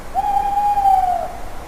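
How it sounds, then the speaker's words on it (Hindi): A cartoon owl gives a single long, clear hoot, a smooth sustained tone lasting about a second that fades out at the end, heard alone and close. "दिन के सोए हुए उल्लू भी उठ जाते हैं।"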